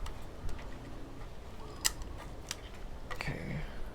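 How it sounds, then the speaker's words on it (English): Shutter cocking on an Argus film camera with a Cintar 50mm f3.5 lens, heard as a few small mechanical clicks and a sharper snap, close and fairly quiet over faint room noise. "So we're gonna cock the shutter."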